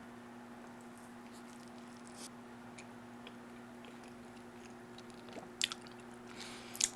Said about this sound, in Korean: 치킨 피자를 먹어보겠습니다